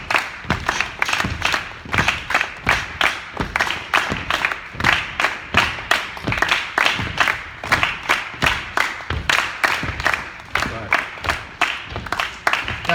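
Bare hands clap out a repeated clave rhythm, close and crisp, with evenly grouped claps cycling steadily and no talking over them.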